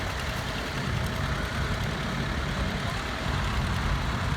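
A two-cylinder tractor straining slowly through a pull in the 4,500 pound class at a two-cylinder show, its engine a steady, loud, low rumble that runs continuously without letup.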